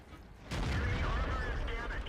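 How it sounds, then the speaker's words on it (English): A Jagdpanther tank destroyer fires its cannon in World of Tanks: a single heavy blast that swells into a long rolling rumble, loud and near, with a voice commentating faintly underneath. "The Jagdpanther fires into the track"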